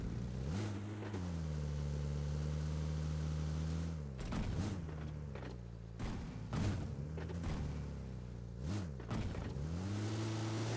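A car engine in PUBG Mobile drones and shifts pitch as it revs up and down, with a few dull thumps, heard faintly and steadily without speech.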